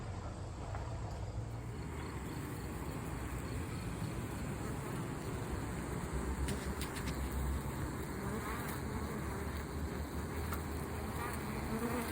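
Feral honeybees from a colony nesting inside a hollow tree make a steady, dense buzzing hum that runs through the whole clip, fairly faint and even, with no talking.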